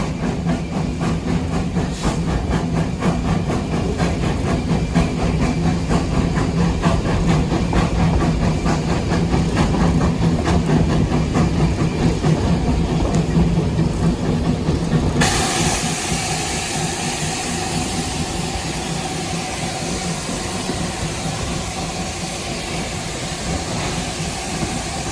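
A Virginia and Truckee railroad train rolls steadily past a bluff near a tunnel, with a constant loud rumble, clatter and hiss of wheels and cars that brightens into a harsher rushing noise partway through, no voices.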